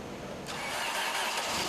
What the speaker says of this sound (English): it took 1 minute and 10 seconds of cranking or chopping up that heavy oil before the engine could get up enough RPM to start